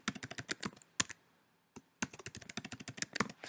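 Password being typed on a computer keyboard while setting up an email account: rapid bursts of close key clicks in two runs split by a short pause, with no voices.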